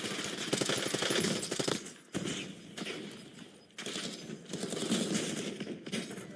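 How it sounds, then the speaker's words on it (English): Rapid SMG fire in a first-person shooter, long dense bursts of automatic shots broken by brief pauses, loud and close throughout. "I don't know what SMG this is, but it's fucking shredding."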